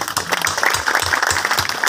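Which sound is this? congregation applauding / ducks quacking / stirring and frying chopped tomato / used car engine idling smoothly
congregation applauding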